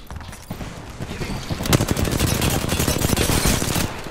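Rapid automatic gunfire in Apex Legends, an SMG-style stream of loud shots that builds and holds steady, close and dense with no pauses.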